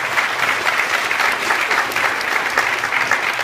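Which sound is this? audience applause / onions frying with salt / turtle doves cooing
audience applause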